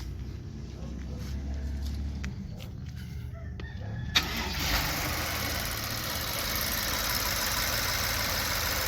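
A 2009 BMW 750Li engine cranks and catches partway through, then settles into a steady idle with a broad mechanical hiss.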